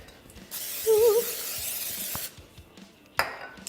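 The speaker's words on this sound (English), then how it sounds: "make sure that you spray your pan with a non-stick cooking spray" A hissing non-stick cooking spray on a pan lasting about two seconds, close and steady, followed by a brief clink of metal.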